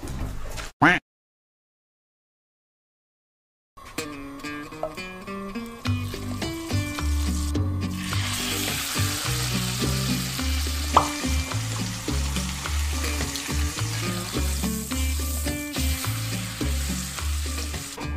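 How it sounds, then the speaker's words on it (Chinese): Chicken thighs sizzle and fry steadily in a pan for teriyaki chicken, with a loud, continuous crackle and some stirring after a brief silent gap at the start. "鸡肉煎好了"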